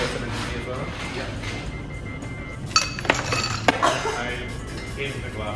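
Ice clinks and rattles into a cocktail glass behind a bar, a few sharp glassy hits clustered together amid steady bar chatter and people talking nearby.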